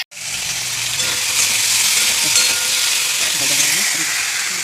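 Potatoes sizzle and fry steadily in a hot pan during home cooking, a close, continuous hiss with faint clinks as they are stirred.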